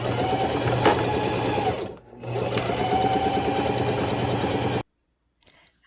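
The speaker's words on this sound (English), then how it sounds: "The next step is to clip them all together and sew them together." A sewing machine stitches dress pieces together, a close, steady rapid whir that pauses briefly, runs again, then stops into near silence.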